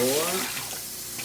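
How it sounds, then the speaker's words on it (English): Water pours from a tap or container into a cooking pot for brown rice, a steady rushing splash that is loud at first and settles into a softer, even flow. "And now we add water."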